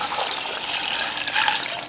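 Water gushes and splashes steadily into a slow cooker pot, a loud continuous pour up close.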